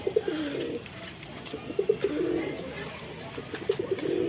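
Pigeons in a home loft, among them a newly paired bird and young ones, coo in soft repeated low bursts of throaty calls, close by, over a faint background hum.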